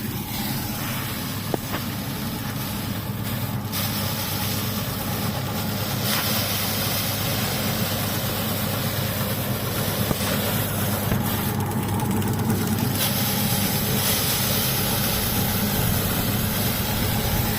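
A small electric motor drives a paddy threshing machine working rice, giving a steady, continuous mechanical drone with a low hum that holds evenly throughout without pauses.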